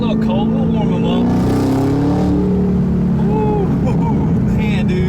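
A 2018 Jeep Trackhawk with a six-speed manual spins its tires, a loud, steady engine roar with tire noise filling the whole stretch, with voices talking over it.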